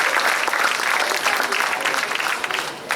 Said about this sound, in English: One more round of applause for the varsity basketball team